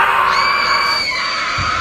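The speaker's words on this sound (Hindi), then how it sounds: "दर्द भरी चीख के साथ" A painful scream in a horror story rings out as a loud, sustained high wail that slides downward and fades after about a second, ending with a low thud.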